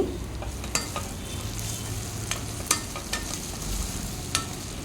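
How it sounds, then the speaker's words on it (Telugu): Carrots fry in a pan for moong dal pulao, giving a close, steady sizzle broken by scraping and clinking as they are stirred, with no voices. "క్యారెట్ వేగిపోయింది"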